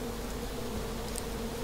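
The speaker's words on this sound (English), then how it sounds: "So, you found the bees? I hear the bees." A steady, droning buzz of bees in the Far Cry 4 video game, continuous and fairly close, with no talking over it.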